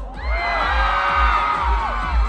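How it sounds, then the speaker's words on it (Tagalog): Crowd at an MMFF parade letting out a loud, sustained shout and cheer lasting about two seconds, with many voices rising together over a low rumbling background. "Pabila ako ng 3 para sa MMFF to, isang malakas na sigaw, okay?"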